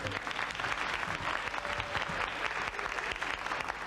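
A television studio crowd claps in a dense, continuous burst of applause at steady volume, filling the moment without any speech on top.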